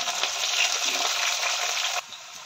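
Peanuts and green chilies frying in hot oil for poha make a steady, bright sizzle that holds evenly for about two seconds, then drops abruptly to a quieter hiss.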